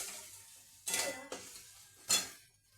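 A metal spoon scrapes and clinks against a pan while spices are stirred and sautéed, with a few distinct knocks spaced over a couple of seconds and a soft background hiss.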